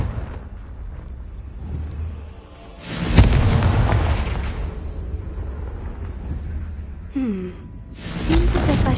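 Confringo fire spell explosions from the Hogwarts Legacy video game, a loud booming burst near the middle followed by a second blast near the end, over rumbling game ambience.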